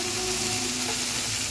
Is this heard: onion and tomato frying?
yes